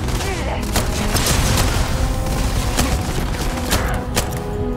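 Shotgun blasts and combat noise fill a Starfield firefight, a loud continuous wash of gunfire punctuated by several sharp reports throughout.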